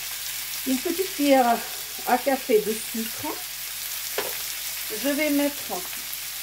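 Vegetables and corn stir-frying in a wok give a steady low sizzle beneath someone speaking French, with occasional scrapes of tossing.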